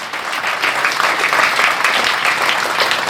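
An audience claps steadily and loudly for teachers at a school event, dense sustained applause filling the whole stretch with no pauses or talk.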